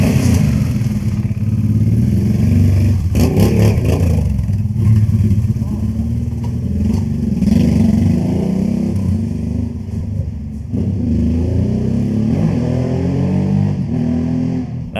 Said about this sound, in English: Just the way the engine sounds in combination with the exhaust right now, it just feels pretty tuned.